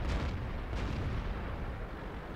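Artillery fire in World of Tanks, a continuous deep booming rumble with a couple of heavier thuds near the start, loud and close with no talking.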